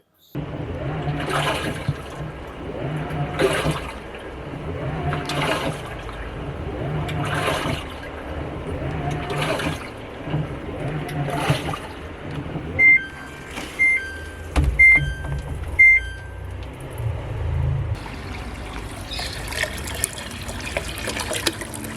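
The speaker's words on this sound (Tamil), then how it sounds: "இதில் உள்ள அழுக்கி எல்லாமே கரைஞ்சி இந்த பைப் வழியாக வெளில வரும்" Dirty water drains out through a washing machine pipe during cleaning, a steady watery gush with repeated surges about every two and a half seconds, then trickling and splashing toward the end.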